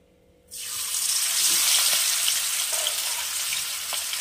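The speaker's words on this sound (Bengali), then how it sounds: "তেল গরম হয়ে গেছে, এইবারে আমি দিয়ে দেবো মাছগুলো।" Boal fish hits hot oil in a pan, bursting into a loud, steady sizzle that holds to the end after a quiet start.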